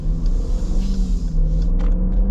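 Naturally aspirated V8 in a 2022 Dodge Durango R/T rumbles with a deep, steady low growl, loud and close from inside the cabin, holding constant for a couple of seconds with no talking.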